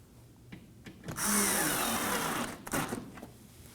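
A power driver runs a Phillips screw snug on the radiator of a 2016-2020 Kia Sorento 2.4L, one close whirring burst of about a second and a half between a few small clicks and knocks.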